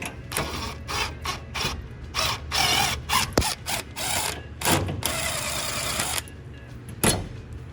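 Bolt being worked loose from a vehicle part during head gasket repair on a truck, heard as repeated close ratcheting and metallic clicking bursts with short pauses, fairly loud and without talk.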